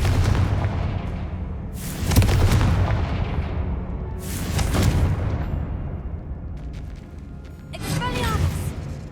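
Confringo spell blasts go off in Hogwarts Legacy: three loud, sharp explosive bursts spaced a few seconds apart, with clattering game effects between them.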